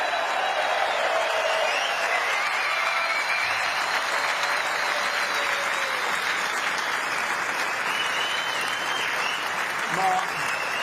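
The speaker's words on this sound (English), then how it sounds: "may we have one final round of applause for these two epic players." Sustained, loud audience applause fills the arena for the two finalists after the 2023 Masters snooker final, a dense steady roar of clapping with crowd noise running the full length without a break.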